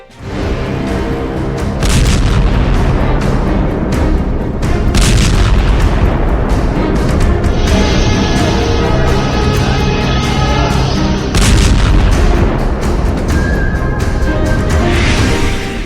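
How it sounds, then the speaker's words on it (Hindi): Heavy explosions and booms from an Israeli weapons attack, captured in war news footage, rumbling loudly and continuously across the whole stretch with dense low-end blasts and overlapping bursts, no speech. "इस्राएल के दुश्मन इसे नेतन्याहू का हिजबुल्लाह हथियार बता रहे हैं, जिसने एक बार फिर आग उगली है।"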